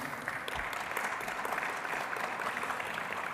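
Conference audience at a closing ceremony breaks into steady, dense applause, a continuous wash of clapping filling the room for the whole stretch with no voices over it.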